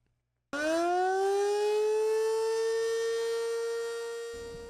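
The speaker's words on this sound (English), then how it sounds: "their new weather sirens that they have recently implemented" A loud new outdoor weather warning siren winds up and holds a steady, sustained wail after a moment of silence, fading slightly toward the end.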